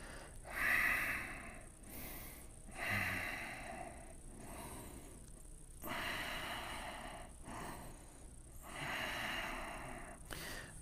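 Slow, deep breathing during a yoga boat pose: soft, close inhales and exhales come in a steady rhythm of about five breaths, some with a slight nasal rasp, quiet throughout.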